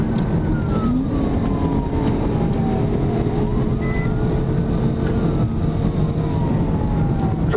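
A police car siren wails in rising and falling sweeps during a high-speed chase of a stolen Mercedes, heard over loud, steady road and engine noise.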